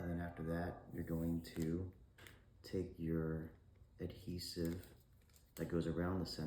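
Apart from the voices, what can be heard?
No distinct noise like a dog, phone or traffic.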